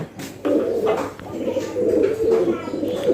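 Satin pigeon cooing up close, a series of loud, throaty rolling coos in uneven bursts with short pauses between them.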